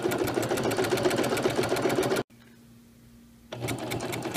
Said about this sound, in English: you just start sewing all the way around